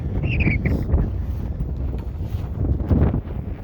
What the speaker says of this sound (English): it is windy as balls up here